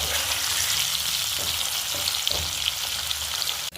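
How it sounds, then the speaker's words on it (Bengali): Paneer fries in a pan until reddish-brown, a dense, close sizzle with soft crackles and a few light stirring knocks, ending in a brief clatter. "হালকা করে ভেজে পনিরটা আমি তুলে রাখবো"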